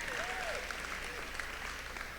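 An audience at a lecture applauds in a steady, fairly faint patter of many hands clapping together, filling the whole stretch with little else.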